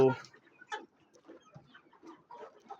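A desi (native breed) rooster gives a loud crow at the start, followed by scattered clucks and chicken calls from nearby fowl.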